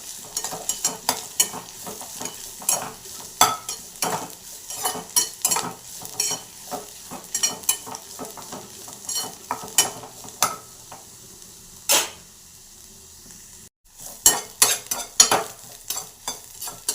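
Leafy greens and browned onion are stirred in a frying pan, with a spatula scraping in quick, irregular strokes over a steady low sizzle and no voices.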